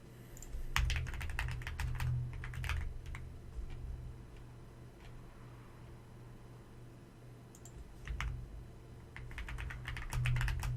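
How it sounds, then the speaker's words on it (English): Steady typing on a computer keyboard while building a Celeste mod, close and crisp, in bursts of rapid clicks with a quieter lull in the middle, with no talk. "You only get keyboard ASMR."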